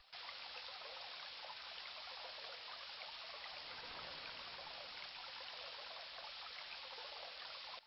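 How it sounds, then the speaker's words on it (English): A flowing river in the video game King's Quest I, a steady, even rushing of water that holds constant and fairly quiet from start to finish with no voices over it. "The river is dangerous and powerful."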